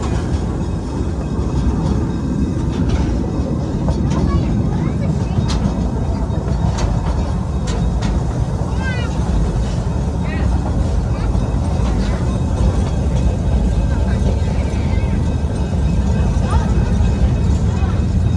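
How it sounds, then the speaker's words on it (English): A steam train rumbles along at a steady pace with low, continuous rolling noise and occasional metallic clanks and squeals. "The train will stop here for a brief time to blow out water from the boiler."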